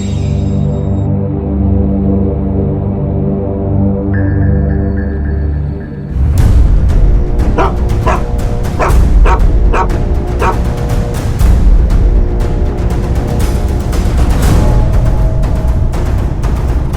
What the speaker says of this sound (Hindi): ये कुत्ता भी यहीं आकर सूंघ रहा है।